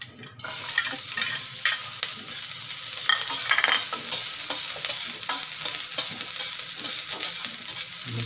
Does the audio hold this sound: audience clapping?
no